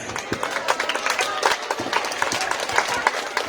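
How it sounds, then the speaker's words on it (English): Scattered applause and clapping from a school audience at a Teacher's Day celebration at St. Anne's, a dense patter of many hands that holds steady without a voice on top. "A huge round of applause for all of us."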